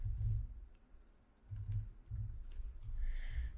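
Soft clicks of typing on a computer keyboard, a few short bursts of keystrokes, close but quiet.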